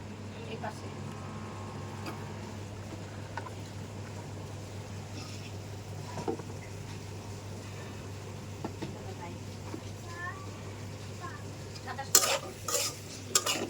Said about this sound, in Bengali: একটু কষিয়ে নিব ভালো করে